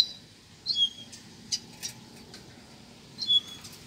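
A male and female papacapim squabble, giving a few short, high chirps and squeaks in brief bursts near the start and end over a quiet, low background.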